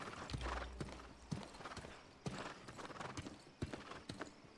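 Horse hooves in a video game clop along at a steady walking pace, faint and mixed with low rumbling ambience.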